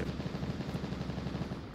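Rapid automatic AK-12 rifle fire in the VR shooter Onward during a competitive match, a steady rattling burst of evenly spaced shots, somewhat distant and muffled, running continuously without pause.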